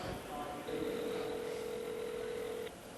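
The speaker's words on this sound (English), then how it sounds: "Is your phone ringing?" A phone gives a steady electronic tone lasting about two seconds against the murmur of a room during a motorsports television show.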